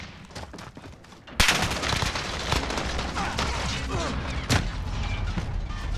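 Gunfire in Modern Warfare, including an Uzi: quiet scattered shots at first, then a sudden loud burst leading into sustained rapid fire mixed with clatter and a sharp crack near the end, close and dense.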